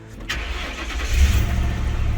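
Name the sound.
old sheriff police car engine starting after exhaust leak fix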